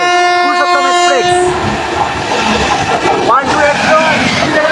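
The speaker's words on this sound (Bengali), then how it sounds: "আর আমাদের দিকে এখন ধেয়ে আসছে ট্রেন নাম্বার 12801 পুরী থেকে আনন্দবাগ টার্মিনাল পুরুষোত্তম এক্সপ্রেস।" Purushottam Express, train 12801 from Puri to Anand Vihar Terminal, approaching with a long, loud horn blast near Bhadrak, followed by the roar and rumble of the passing train, close and continuous.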